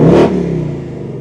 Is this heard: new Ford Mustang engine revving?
yes